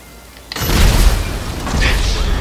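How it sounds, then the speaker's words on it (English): Four-wheeler blowing up in the video game GTA V, a sudden loud boom that kicks in after a quiet moment and rumbles on with crackling debris for the rest of the moment. "Now that's some good stuff to blow a four-wheeler up."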